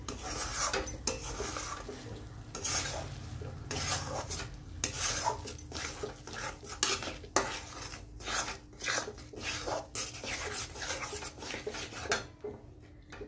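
Jaggery and khoa being mixed for modak in a pan, with a spoon scraping and clinking against the metal in quick irregular strokes, fairly close and moderately quiet, no talking.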